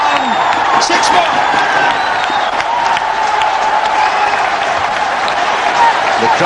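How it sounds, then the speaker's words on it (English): A cricket crowd at a one-day match against Zimbabwe roars and applauds after a six from Shahid Afridi, a loud, sustained wash of cheering and clapping with a commentator talking over it. "The crowds are overjoyed."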